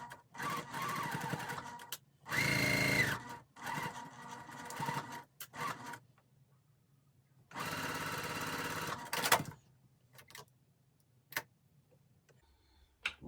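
A sewing machine stitches quilt pieces for a Double Diamonds quilt in two loud, steady runs of whirring stitching, each a couple of seconds long, separated by quieter handling clicks and thread noise.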